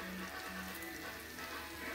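Onions fry in hot oil, a close, steady, dense sizzle with fine crackling that holds evenly throughout.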